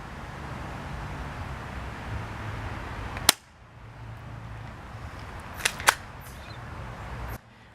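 A Taurus Millenium PT-111 airsoft pistol fires outdoors, with one sharp snap followed by a quieter pair of shots a few seconds later over a steady background hiss.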